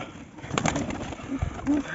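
A few low pigeon coos sound close by, with faint background voices and light outdoor noise.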